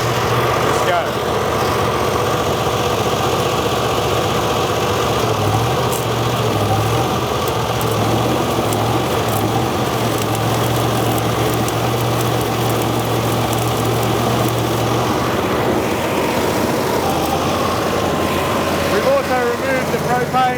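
A 1947 Lincoln SA-200 Pipeliner Jr welding machine engine runs steadily at a close, loud idle, holding a constant drone with a low hum throughout, while a person talks intermittently over it.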